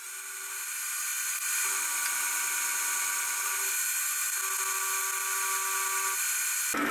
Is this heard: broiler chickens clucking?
no